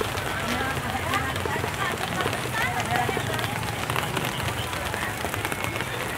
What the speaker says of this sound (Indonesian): Ini suasana lagi hujan ini, gimana?